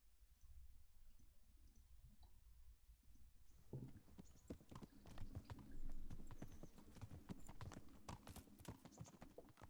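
Horse hooves clip-clop in the medieval game Kingdom Come: Deliverance, a steady rapid beat of hoof strikes starting after a few quiet seconds and continuing close and clear to the end.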